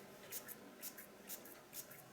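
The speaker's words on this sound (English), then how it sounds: "I'm going to give it another just a very light spray" Light spray paint applied for colouring, heard as a close series of short paired hisses that repeat about every half second, with no talk.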